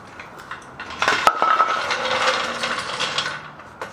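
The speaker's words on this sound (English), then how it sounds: "I'm going to go ahead and torque my wheels to 97 foot-pounds." A torque wrench clicks and ratchets while tightening lug nuts on a Lexus LX570, close up, with a rapid run of mechanical clicks in the middle and a few sharp metallic taps before and after.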